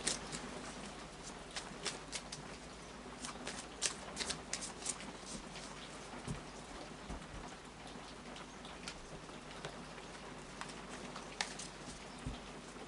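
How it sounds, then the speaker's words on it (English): Rapid crisp riffling of Tarot of Dreams cards being shuffled, close and steady with occasional soft taps, no voices. "final shuffle of the Tarot of Dreams"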